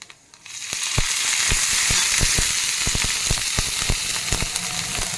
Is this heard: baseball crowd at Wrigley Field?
no